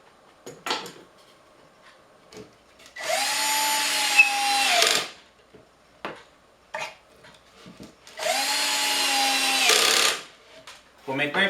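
Power drill driving screws into the pocket-hole joints of a wooden drawer, two close bursts of whirring that ramp up and wind down, separated by clicks and handling knocks.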